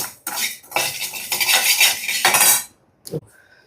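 Mango pickle spices being roasted and stirred in a pan, with a utensil scraping and clinking steadily against the metal for over two seconds, then a short pause and one more brief scrape; no talking.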